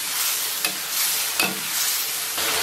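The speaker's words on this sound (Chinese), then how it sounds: "然后提前切好的豆腐啊要下到锅中" Tofu frying with sauce in a pan, a loud, steady hiss with a few brief scrapes, no one talking.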